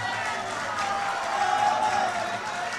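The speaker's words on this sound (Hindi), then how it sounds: "आप तो जोर से तालियां बजाने," Rally crowd claps and murmurs in a broad, steady wash of applause, moderately loud and continuous under a faint hum.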